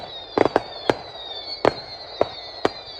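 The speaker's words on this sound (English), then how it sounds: "This is fireworks in Leamington on a Halloween night" Fireworks pop and bang in sharp, irregular bursts on Bonfire Night in Leamington Spa, about eight reports over a few seconds, somewhat distant, with a faint steady hum behind them.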